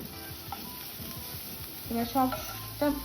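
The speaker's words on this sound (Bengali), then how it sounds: "এবার আমি একটু মিক্স করে নেব আর একটু ভাজা ভাজা করে নেব খুব হালকা।" Vegetables for egg chicken fried rice stir-fry in a pan, with a continuous sizzle, rhythmic stirring scrapes and a few short clinking tones of the utensil against the pan, close and moderately loud.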